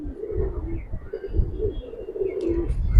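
Giribaz pigeons coo in a loft, a steady low rolling murmur running through the whole stretch at moderate level, with a faint higher chirp or two near the end.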